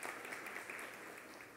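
Congregation applause at an evening church service honouring the pastor's parents, a dense, steady wash of many hands clapping throughout, moderately loud and without a break.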